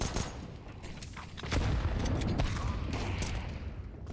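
Grenades burst in a Counter-Strike match on the Vertigo map, a string of sharp blasts with a heavier low boom midway, loud and close amid gunfire-like crackle.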